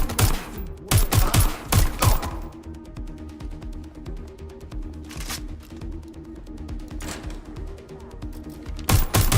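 Rapid bursts of gunfire in the Watch Dogs Legion video game, loud volleys at the start and end with scattered shots and clatter in between, and no talk.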